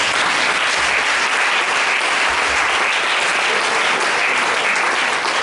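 A church congregation at a worship service claps for the Lord in sustained, loud applause, a dense continuous patter from many hands with no break.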